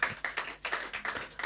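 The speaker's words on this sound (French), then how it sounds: "On peut encore applaudir à la gloire de Dieu." Church congregation clapping together in worship, a fast, rhythmic run of sharp claps from many hands, fairly close and steady, with no voices.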